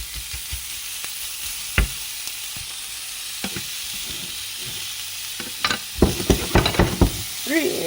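Guanciale fries in a pan with a constant sizzle, close by. Scraping and tapping from stirring grows busier toward the end.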